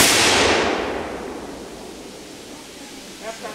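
A militia rifle volley fired as a graveside salute at a dedication ceremony cracks out in one loud, sharp blast at the start, then rings and fades into outdoor ambience; a brief faint sound follows near the end.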